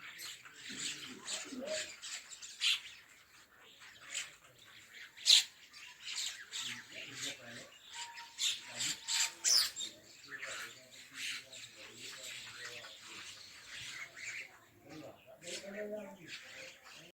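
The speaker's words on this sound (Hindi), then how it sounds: "अभी आगे आपको ना चिड़ियों की ची ची करने की आवाज़ सुनाते" Many small birds chirp and tweet at dawn in a village home, scattered calls coming in quick clusters, some close and bright, others farther off, with a few louder squawks and light household noise underneath.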